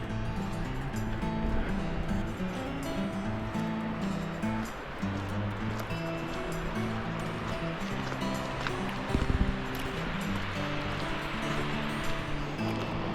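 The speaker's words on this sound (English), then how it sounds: "You can hear the waterfall though." A waterfall rushes steadily near a still, swampy stretch of water in Skjolden, Norway, a dense, continuous roar of falling water with no pauses, fairly loud and constant throughout.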